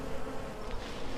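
Honeybees from a colony being removed buzz steadily and densely, a close, continuous swarm hum with no voices over it.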